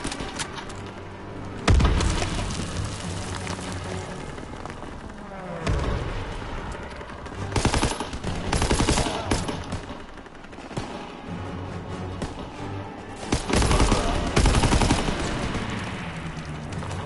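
Video-game gunfire comes in repeated bursts of sharp, loud shots, some rapid like automatic fire, spread across the stretch with short gaps between volleys and no talk.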